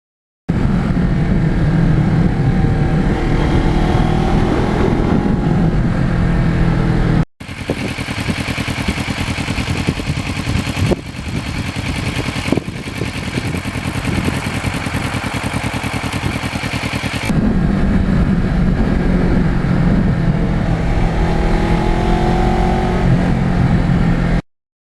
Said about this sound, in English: It's got such nice low-end torque, very flexible engine, takes the gas beautifully